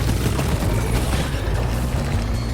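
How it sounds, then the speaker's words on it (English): Bomb-like enemy projectiles exploding on the ground in Deep Rock Galactic: a loud, steady rumble of overlapping blasts with no clear pauses. "They're kind of like bombs, because they explode once they hit the ground, after a few seconds."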